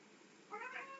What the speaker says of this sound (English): So, Kendra, stop meowing